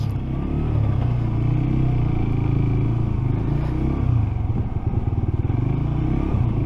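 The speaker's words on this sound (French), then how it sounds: "Bon, on va mettre les motos là." Motorcycle engines idle and rumble steadily up close while the bikes are parked in Cotignac, France, with some clatter and brief revving throughout.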